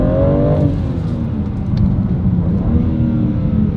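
A BMW M3 Competition drives along with a loud, steady engine drone and road rumble heard from inside the car, rising slightly in pitch early on.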